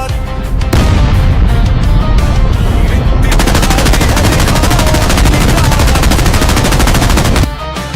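Dense, loud gunfire and machine-gun bursts from a war film battle scene with tanks and aircraft on the field, sustained rapid firing with booming impacts throughout, dropping slightly at the very end.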